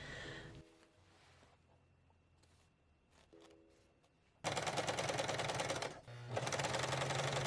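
A sewing machine stitches a waistband onto a pair of shorts, starting with a few quiet clicks and brief taps, then running loud and fast in a steady rapid chatter up close, with a short pause before the stitching resumes.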